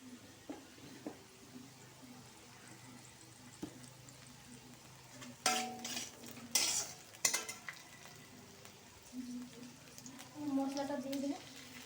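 Boiled potatoes stir-fried in a pan, a low sizzle with intermittent scraping and clinking of a spatula against the pan, and a voice talking over it.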